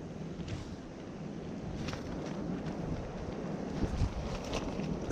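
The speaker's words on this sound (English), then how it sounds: "It's very windy." Steady wind rushes and buffets against the microphone in a low, continuous roar at a cold, snowy campsite, with occasional gusts and no one speaking.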